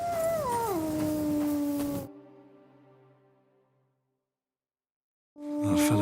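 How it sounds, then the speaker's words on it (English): A dog howls in Kingdom Come: Deliverance II, a long, loud, wavering howl that slides downward and fades into silence, then a second howl bursts in at the end. "No wonder the dog's howling like mad."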